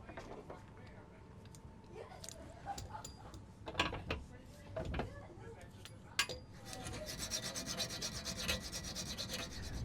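A four-blade hand scraper rasps along wooden boat planks, stripping squeezed-out seam compound in uneven strokes with scraping bursts and knocks, close by, ending in a denser continuous grinding scrape.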